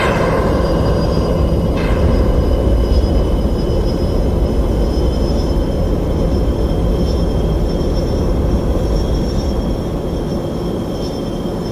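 A jet's afterburner roars in a flight game, a loud, steady, close rumbling blast with a thin high whine laid over it, sustained without a break and no talking.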